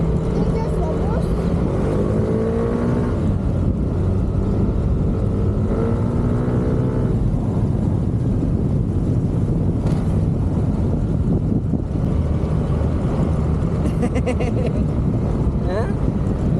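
Steady low rumble and broadband road and wind noise from riding inside a moving bus, continuous throughout, with voices talking over it.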